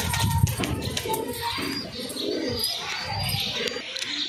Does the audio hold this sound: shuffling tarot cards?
no